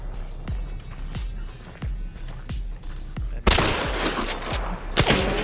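Gunfire in a hunting video game: repeated booming shots at a steady rhythm over a low engine-like rumble, then a denser, louder burst of fire near the end.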